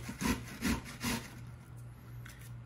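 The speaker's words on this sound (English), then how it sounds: "just using a standard cheese grater," An onion being grated on a standard cheese grater: three quick rasping strokes close by in an even rhythm, then a quieter pause with faint scraping, no talk.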